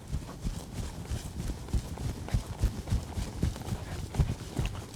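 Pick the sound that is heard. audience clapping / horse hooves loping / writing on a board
horse hooves loping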